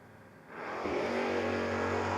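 A drag racing motorcycle in a No-Box 660 shootout launches and accelerates hard. It starts as a low rumble, then swells suddenly into a loud, sustained rising engine roar.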